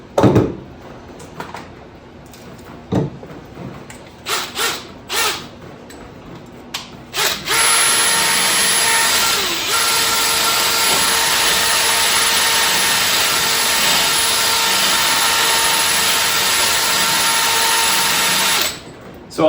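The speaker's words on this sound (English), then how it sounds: "this is just a wire wheel cup. It's really inexpensive, and electric drill that gets all that rust and debris" A power drill spinning a wire cup brush on a rusty Dodge D100 fuel tank area, running loud and steady for about ten seconds after a few short bursts, grinding and whining continuously.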